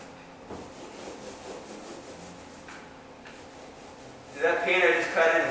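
A 3-inch Wooster mini roller rolls paint across a paneled door, giving a soft, steady rubbing swish close by, growing louder and rougher near the end.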